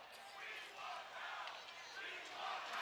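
Hockey crowd at a Jacksonville Icemen vs Atlanta Gladiators arena game chanting "We want Howe," a broad, steady roar of many voices swelling in waves, sustained throughout at moderate distance.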